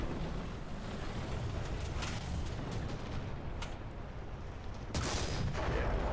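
A tank's cannon fires in War Thunder, a Panzer III N trading shots with a Valentine and a Matilda, sharp booming blasts against a steady rumbling battlefield bed, the loudest burst landing near the end.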